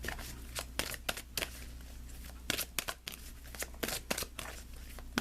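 Guidance cards are shuffled and pulled with a quick run of crisp riffling snaps and bursts of papery flicking, close and fairly quiet in a still room.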